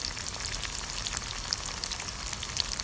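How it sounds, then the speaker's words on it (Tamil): Heart-shaped pieces of dough sizzle steadily in hot oil on a stove at medium flame, a close, continuous crackling hiss with scattered sharp pops and no talking. "இப்போ இந்த ஹார்ட்டின் ஷேப்பையும் நம்ம போட்டு ஃப்ரை பண்ணி எடுத்துக்கலாம்."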